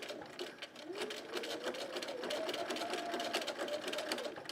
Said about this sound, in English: I don't actually sew with this machine very much, so I'm a little unfamiliar with that.